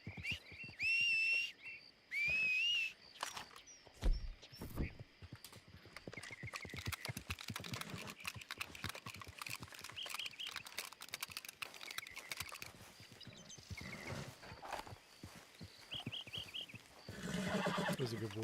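Video game horse whinnying loudly twice near the start, then steady clip-clop of hooves trotting along under other game sounds, with a brighter burst near the end.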